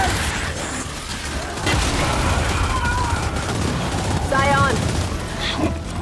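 Gunfire in Gears 5 during a Frenzy horde match on the Atrium map: dense bursts of rapid shots and booms crackle throughout at close range, with voices shouting over the firefight.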